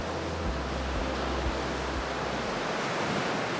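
Surf at the curved beach of Waipi'o, Hawaii, a steady broad wash of breaking waves, soft and continuous, with low wind rumble against the microphone.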